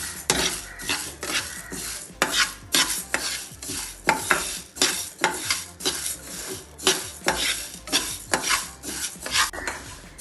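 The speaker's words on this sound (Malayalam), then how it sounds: "നന്നായി ഒന്ന് നമുക്കിത് ഇളം ഗോൾഡൻ കളറിൽ ഒന്ന് വറുത്തെടുക്കാം" Moong dal being dry-roasted and stirred in a pan, with steady repeated scraping and rattling strokes of the utensil against the pan and grains, close up, sustained throughout with no talking.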